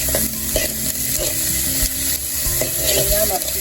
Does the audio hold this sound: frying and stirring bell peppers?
yes